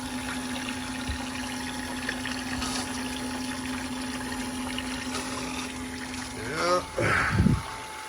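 Water pump running steadily in an intercooler ice tube tank, a continuous hum with a constant tone, followed near the end by brief gurgling and splashing of flowing water.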